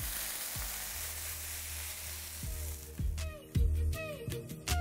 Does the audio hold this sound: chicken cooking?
yes